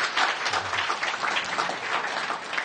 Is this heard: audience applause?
yes